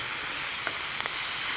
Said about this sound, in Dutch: En hier hoor je hem nog steeds sissen,